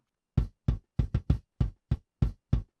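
A rock kick drum recorded with an outside microphone sounds nine isolated, close thumps in a quick irregular pattern, each hit round and booming with little attack click.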